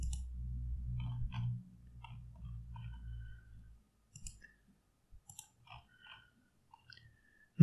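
Sharp, quiet computer mouse clicks come one or two at a time at irregular intervals during CAD work, with a low hum in the background at first.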